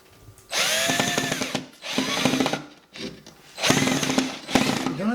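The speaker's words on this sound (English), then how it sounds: "I'm ready to install the first screw" A power drill drives a screw while a coat rack is installed, whirring in several short, close bursts with brief pauses and pitch shifts as the screw bites in.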